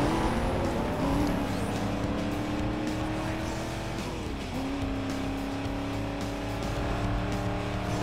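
Car engine revving and accelerating in Need for Speed Most Wanted (2005), a Ford Mustang racing in the game: a loud, sustained engine drone that rises steadily in pitch, dips briefly, then climbs again.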